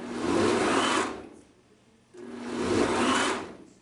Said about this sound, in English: Don't forget, that's a Vitamix, the best thing on the market for anything.